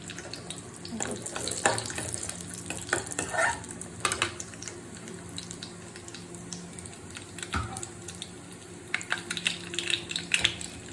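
Raisins frying in a pan for Kerala lentil payasam (parippu payasam): a steady close sizzle and crackle with occasional scraping stir clinks, no voices.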